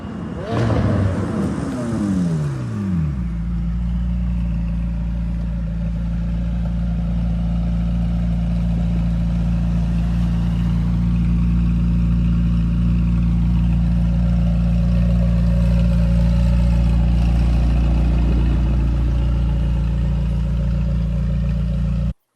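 A McLaren 720S supercar rolls past, its engine note sweeping down in pitch as it passes close by, then a loud steady low engine rumble and drone continues for the rest of the stretch.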